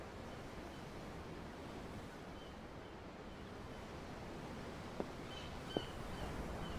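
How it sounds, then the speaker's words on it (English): Ocean waves heard from a ship at sea in Tales of Arise, a steady, soft wash of surf with no talk and a couple of faint clicks near the end. "The waves. They help me think."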